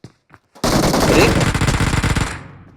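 In PUBG, after a couple of faint clicks, a loud burst of rapid automatic gunfire rattles on for about two seconds, then cuts off.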